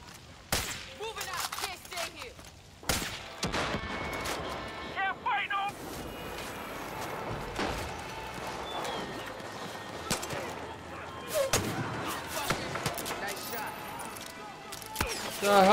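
Gunfire and explosions in the video game Far Cry 5 on Hard difficulty, with sharp scattered shots and impacts over a busy game soundscape while a player talks throughout.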